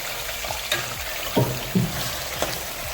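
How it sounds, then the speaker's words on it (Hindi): Beef sizzling and frying in about half a cup of cooking oil in a pan, a steady close crackle with a few louder pops and stirring clatters, no voices. "कुकिंग ऑयल में तकरीबन 15 मिनट अच्छी तरह फ्राई कर लेंगे"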